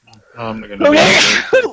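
A single loud sneeze bursts out after a short breathy intake, close to the mic, with someone talking just before it during a tabletop role-playing session.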